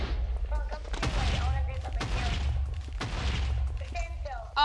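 Explosions in Minecraft thump and boom in a quick series, roughly once a second, medium-loud, with a few voices talking over them.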